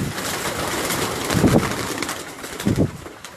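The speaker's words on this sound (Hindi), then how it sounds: "ये 10 नंबर कबूतर।" Domestic pigeons in a loft in Gujranwala coo in two short, low bursts at close range over a steady bed of background noise, with no talking in between.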